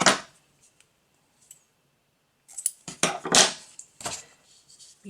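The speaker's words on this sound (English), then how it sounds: "now we can fasten off, cut the yarn" Scissors cutting yarn at the end of crocheting a peach blossom: a few sharp, close snips and rustles in quick succession after a quiet stretch.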